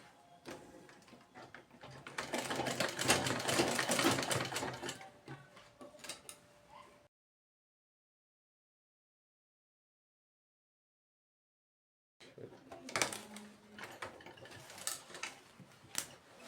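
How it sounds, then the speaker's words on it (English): A sewing machine stitches an invisible zip, with a fast mechanical whirring run that swells and fades, then a pause of silence before a second shorter, ticking stretch of sewing. "Then set your footer and commence sewing."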